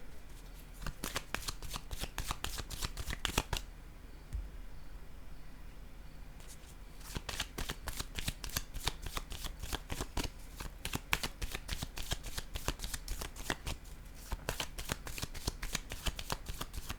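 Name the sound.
tarot cards being shuffled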